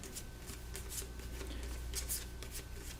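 AI cards for the board game Aeon Trespass: Odyssey being shuffled into a deck by hand, a quiet run of soft riffling flicks and card slaps close up.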